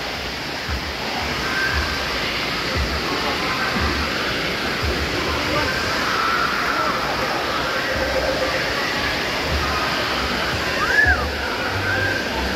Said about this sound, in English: That's a real river, Craig.